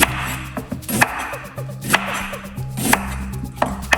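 A knife chopping fresh ginger on a cutting board, a series of crisp, close knocks at an uneven, steady pace with no talk.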